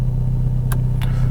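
A 2021 Mercedes-AMG CLA45S 4Matic Plus idles in Race mode with a steady, low engine drone and even exhaust rumble. Two brief, faint high clicks sound over it.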